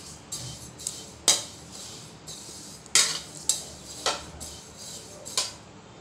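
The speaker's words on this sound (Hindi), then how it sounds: "अब हम उसमें सारे खड़े मसाले अपने मिला देंगे और एक हल्की खुशबू आने तक इन्हें भूनेंगे।" Whole spices dry-roasting in a kadhai give sharp, scattered metallic scrapes and clinks from a stirring utensil over a quiet background, with a soft, faint crackle between the strokes.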